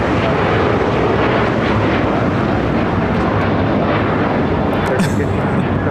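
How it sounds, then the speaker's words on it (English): Alaska Airlines Boeing 737-900ER taking off at LAX, a loud, steady jet engine roar filling the whole stretch with broadband rumble; voices can be heard beneath the noise. "1315 taking off to Portland on a 737-900ER"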